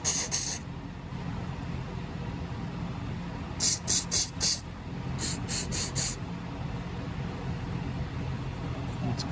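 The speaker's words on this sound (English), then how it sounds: "we're gonna shoot some Carb spray into here" Carburetor cleaner sprayed into the small holes of a Briggs & Stratton 300E lawnmower engine carb comes in sharp hissing bursts: one at the start, then two quick clusters of short pulses, close and loud over a faint background hum.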